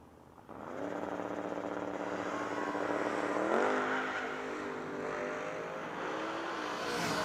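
A 94 Ford Mustang and a Camaro launching side by side in a drag race at a drag strip event, engines roaring loudly and rising in pitch as they pull away.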